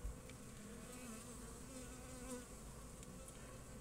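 Honeybees buzz inside an open hive in February, a dense, steady, close drone with no pauses and no talking.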